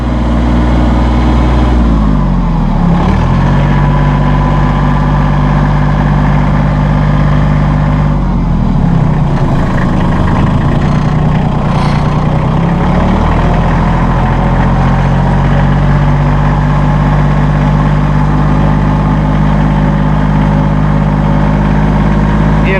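A 2008 Massey Ferguson 1533 compact tractor engine runs at PTO speed, a loud, steady mechanical drone that holds close and continuous throughout with a brief dip and recovery early on.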